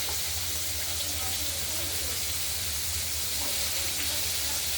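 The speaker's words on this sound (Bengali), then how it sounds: "এবার আমরা কুমড়োগুলো সব দিয়ে দিলাম, ভাজতে হবে।" Thin-cut pumpkin strips fry in white cooking oil in a kadai with tempered mustard seeds and green chilies, making a steady, soft, even hiss over a faint low hum.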